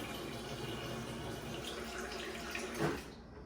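Water from a refrigerator dispenser pours steadily into a one-gallon container, a continuous soft rushing stream at close range with a brief splashy swell near the end before it stops.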